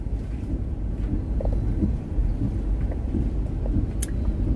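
Heavy rain pours down on a rainy day by an oat field, a dense, steady wash of noise with low rumbling gusts and no voices.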